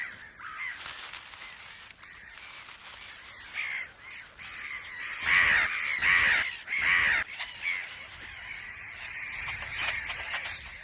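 Mediterranean gulls at a breeding colony on an island in a salt lake give harsh, repeated crying calls, several overlapping bursts that rise to loud clusters over faint background noise.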